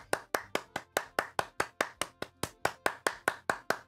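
Steady rhythmic hand claps from the Donkey Kong Bongo video game, about four claps per second, sharp and evenly spaced, fairly faint with no talking over them.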